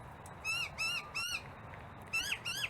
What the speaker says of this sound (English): birds are starting to roost for the night now.